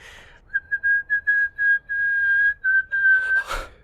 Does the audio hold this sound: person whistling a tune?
yes